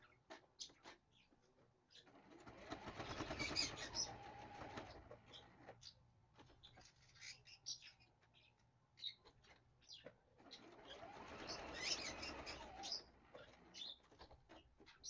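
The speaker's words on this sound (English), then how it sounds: "Baby Sky, are you chirping" A pet bird chirps and coos softly indoors, with intermittent faint calls in two louder bursts over steady quiet background noise, no talking.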